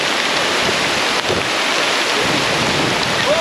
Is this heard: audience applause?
no